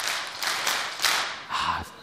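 Church congregation clapping the syncopated Korean 2002 World Cup rhythm, a few bursts of crowd claps with brief pauses, fairly close and loud in a reverberant sanctuary.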